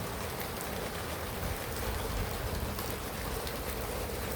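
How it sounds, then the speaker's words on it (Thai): Light rain falling in a Thai village where boats are kept at every house, a dense, even patter of drops with no voices. "ฝนเบาแล้ว"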